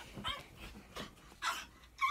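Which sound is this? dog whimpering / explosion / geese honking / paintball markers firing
dog whimpering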